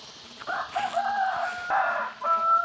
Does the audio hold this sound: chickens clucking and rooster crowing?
yes